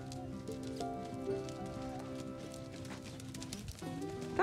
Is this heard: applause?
no